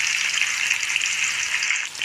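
Onion frying in oil with cumin and curry leaves, a steady close hiss of sizzling that holds evenly throughout with no talk.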